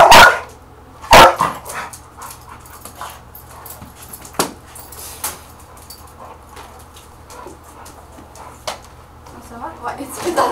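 Dog barking in short bursts during a play session, a loud close bark at the start followed by scattered yips, whimpers and panting, with people talking in French nearby.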